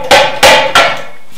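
Three sharp, loud, closely spaced blows strike the side of a clamp on a welding table built with bowling balls, each ringing briefly before the next, then quiet.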